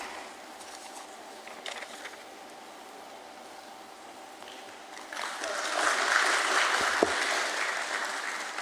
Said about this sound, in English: I want you all to keep clapping once I announce the name of the dignitary